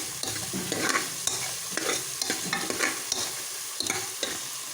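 Ingredients sautéing in a pan for cumin rasam, a soft continuous sizzle under repeated scraping strokes of a spoon against the pan, close by and fairly quiet, with no one speaking.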